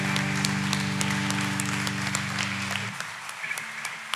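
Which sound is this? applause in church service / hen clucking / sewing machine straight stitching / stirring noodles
applause in church service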